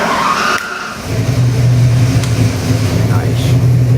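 A Ford 347 cubic inch small block crate engine in a 1934 Ford cranks briefly, then catches and settles into a loud, steady rumbling idle close by, with no talk over it.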